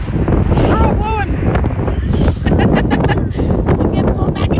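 Strong gusting wind buffets the microphone with a loud, continuous low rumble during an outdoor cosplay shoot in a windstorm, while people shout and talk over it.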